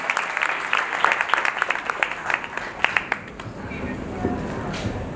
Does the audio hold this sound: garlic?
no